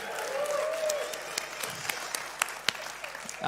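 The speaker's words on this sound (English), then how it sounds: "Everyone, a round of applause for Mary" An audience at a Christmas carol event applauds Mary, a steady patter of clapping at moderate distance with a few sharper individual claps standing out and a faint voice underneath.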